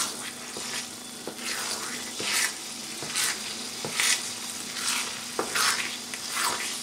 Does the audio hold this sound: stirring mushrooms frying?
yes